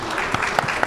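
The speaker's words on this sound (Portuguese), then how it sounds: "Quem aqui gosta de dinheiro, aplaude!" A burst of applause from a conference audience at a business summit, brief and moderately loud, scattered claps rising and falling over less than a second.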